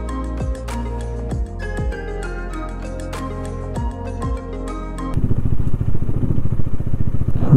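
A motorcycle engine putters at close range while the bike is parked at Gue Monastery in Spiti Valley, with clattering knocks, then the sound shifts to loud rumbling wind or engine noise.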